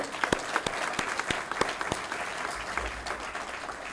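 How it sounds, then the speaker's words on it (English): Audience at a university convocation applauds a guest of honour, with steady, fairly faint clapping from many hands and a few sharper individual claps standing out. "Please give a big round of applause to Professor J.S. Bajaj."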